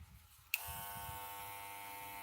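An electric hair clipper switches on partway through and runs with a steady, close, high buzzing hum that continues to the end, with no talking.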